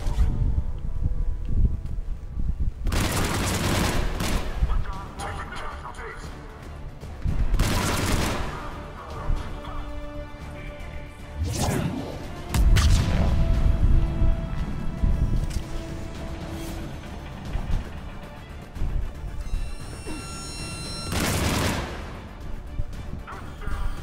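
A gun loaded with incendiary ammo in Mass Effect 3 fires in repeated loud bursts, rapid rattling volleys separated by short pauses over a busy combat backdrop.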